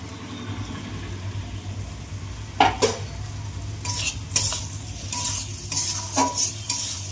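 Masala with chopped tomato is stir-fried for a desi chicken curry, producing a steady low sizzle broken by several sharp metal scrapes and clanks of the spoon against the pan, close and clear with no voices.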